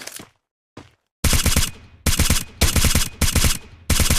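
Rapid automatic gunfire in Free Fire, loud close bursts that stop and start, following a couple of brief sounds and a short silence.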